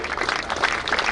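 Audience applause at a badminton tournament prize distribution, a brief dense burst of many hands clapping at moderate volume with no talk over it.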